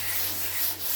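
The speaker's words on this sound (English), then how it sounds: "I'm rubbing up to the edges" Wet rubbing of primer filler on a VW Beetle trailer, a close, continuous sanding rub with a soft, even swishing texture.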